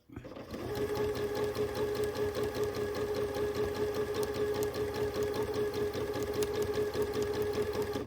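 A domestic sewing machine doing free-motion quilting, stitching loops along a spine across fabric, runs steadily and close up with a fast, even needle chatter and a constant motor hum, no pauses.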